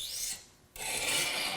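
A knife blade scrapes across window tint film on a car side window, giving a close, raspy rubbing sound that stops briefly for a short gap and then resumes.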